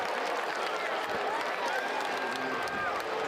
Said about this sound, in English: I can see the Georgia Southern fans. Some are clapping